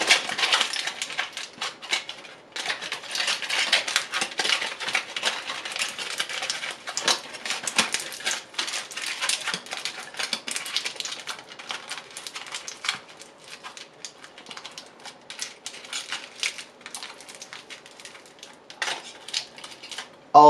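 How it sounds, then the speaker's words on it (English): Foil and electrical tape being wrapped around an object: continuous crinkling and crackling with sharp tape rips and rustles, close and fairly loud throughout, with no speech. "I'll put foil around them too, and I'm going to cover that in electric tape"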